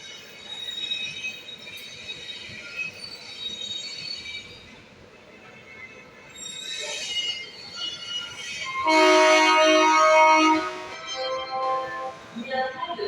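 Express train 12107 from Lokmanya Tilak to Sitapur arriving at Kanpur Central station, with rumbling wheels, shrill squealing brakes and a loud metallic screech, amid platform noise and faint voices.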